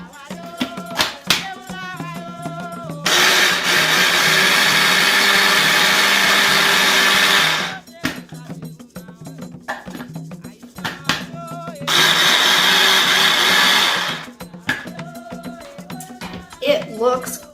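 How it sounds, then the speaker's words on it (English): A kitchen blender purees colorful soup ingredients in two long, loud, steady whirring bursts separated by short pauses, with clicks and bits of handling noise between them. "I'm gonna use a blender"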